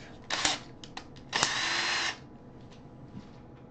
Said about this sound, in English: I need a drill in my life.